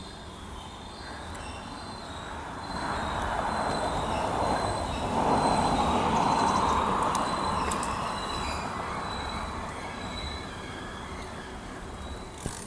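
A train rolls past along Puget Sound near Shilshole Bay Marina, a broad steady rumble with wheel squeal that swells from about three seconds in, peaks midway, then eases slightly while continuing.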